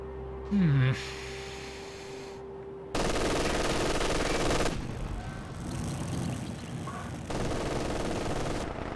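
Machine gun fire in the World War II strategy video game Company of Heroes 2, heard as long dense bursts of rapid automatic shots, loud and sustained, with a brief electronic tone and hum before the firing begins.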